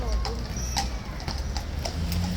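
Horse hooves clip-clop at a steady walking pace at Horse Guards, a close run of sharp, regular hoof strikes on hard ground, with people talking over them.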